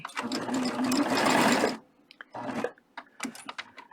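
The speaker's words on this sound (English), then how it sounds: "And all the while I'm stitching, that wire is situated underneath the stitch." A serger sewing machine stitches over wire laid into fabric to make wire roses. It runs in one loud, steady burst, then in shorter, intermittent runs as the fabric is steered.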